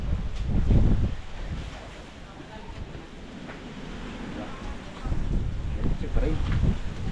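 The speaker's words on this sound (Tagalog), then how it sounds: "Lakas lang na hangin." Strong wind buffets the microphone in loud gusts, easing briefly and then surging again, with a voice faintly audible.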